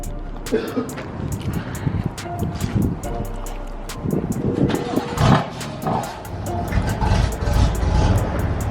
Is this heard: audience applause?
no